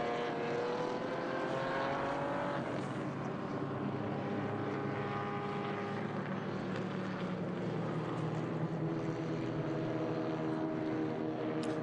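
Vintage race cars of SVRA Groups 1, 3, 4 and 5b drone past at WeatherTech Raceway Laguna Seca, a steady layered engine howl whose pitch rises and falls as cars pass, with no talking.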